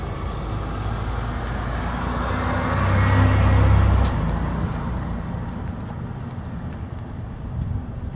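A vehicle drives past on a road outside, its broad rumble and tire noise swelling to a peak midway and then fading away as it moves off into the distance.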